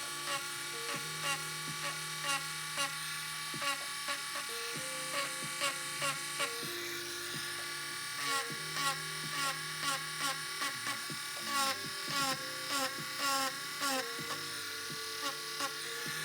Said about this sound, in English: The Dremel tool is definitely a game changer.